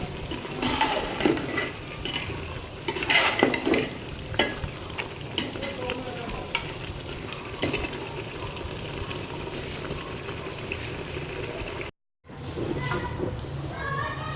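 Mutton sautéing in a pot for biryani, giving a dense continuous sizzle with scraping stirs throughout, a voice talking over it, and a brief cut to silence before the frying resumes.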